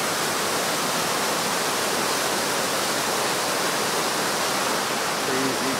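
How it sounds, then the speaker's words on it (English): Small waterfall beside a canoe portage in the Boundary Waters wilderness of Minnesota, a steady, loud broadband rush of falling water that stays constant and close throughout. "Cool little waterfall right next to the portage."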